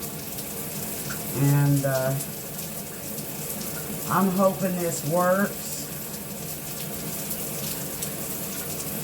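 A new filtered shower head runs with a continuous close hiss of spraying water, while a person talks briefly over it twice.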